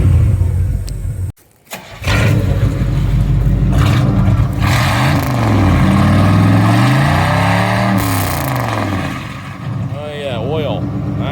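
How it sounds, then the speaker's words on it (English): A 1986 Oldsmobile Cutlass Salon engine starts after a brief silence and then idles steadily, with wavering tonal hum and a rise in revs, close up and fairly loud. "It's even idling good."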